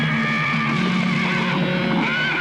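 A startled horse rearing and neighing, a loud, drawn-out whinny that rises and wavers for a couple of seconds, heard close with a steady background hiss.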